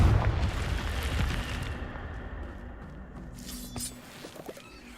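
A Confringo blasting curse explodes in Hogwarts Legacy with a loud, booming burst up close that decays into a long rumbling tail, followed by a few fainter crackles and pops, with no talking.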